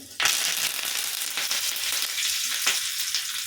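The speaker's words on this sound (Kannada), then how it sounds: "ಈಗ ನಾನು ಕರ್ಬೇವಿನ ಸೊಪ್ಪು ಹಾಕ್ತಾಯಿದ್ದೀನಿ" Curry leaves drop into hot oil with garlic for a drumstick dal sambar tempering, setting off a sharp burst of close, loud sizzling that crackles on with further spitting pops.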